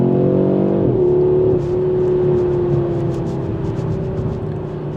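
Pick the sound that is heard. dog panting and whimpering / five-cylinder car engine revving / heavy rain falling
five-cylinder car engine revving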